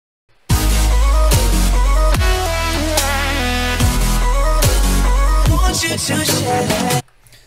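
Electronic music with a robotic, vocoded lead over chords, steady percussion and a deep bass line, playing loud and continuous for several seconds before stopping abruptly.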